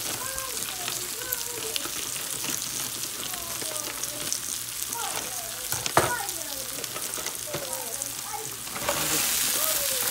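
Frozen spinach and shrimp sizzle and crackle steadily in a frying pan. Occasional stirring clinks come through, and the frying grows louder and brighter toward the end.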